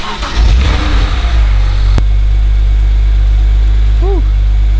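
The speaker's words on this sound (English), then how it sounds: "We're gonna go ahead and start up the car." A BMW 135i with the N54 engine starts up: a short crank snaps into a loud, close, steady idle that holds for several seconds.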